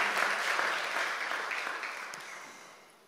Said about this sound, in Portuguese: Pode aplaudir. Puoi applaudire.